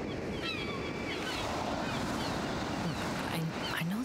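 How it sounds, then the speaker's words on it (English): Ocean waves surging steadily on deck in the video game Steambot Chronicles, a loud continuous wash of surf and wind that fills the whole stretch, with faint tonal game sounds near the end. "But the waves. The waves. The waves. It's drowning everything out."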